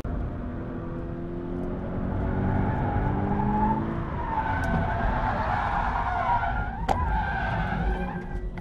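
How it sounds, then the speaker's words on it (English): A Toyota 86 on a racetrack slides into oversteer, its tires squealing and skidding loudly over the strained engine note, the squeal swelling midway and ending with a sharp transient near the end. "Now here I'm driving in 86 again, and this is the same racetrack, consecutive laps."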